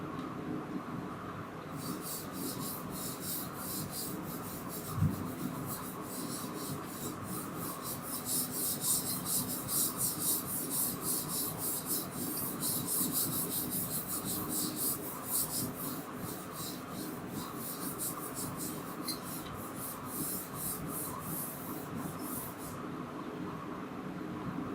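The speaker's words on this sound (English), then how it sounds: "Now, I am drawing Smith chart to explain the concept." A pen draws a Smith chart on paper, a steady scratchy rasp of strokes running for most of the span with a faint room hum underneath and no talking.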